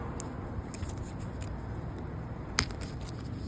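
A knife slices down the side of a plastic fitting cover during a BMW B58 catch can install, making one faint, brief cutting scrape against a quiet, steady background.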